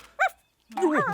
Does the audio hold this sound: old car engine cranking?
no